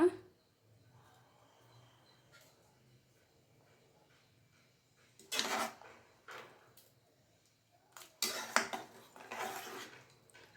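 A spoon stirs avarekayi sambar in a pot, with faint background after an early knock, then two bursts of scraping and clinking against the metal pot near the middle and end of the clip; close, moderately loud, no voices.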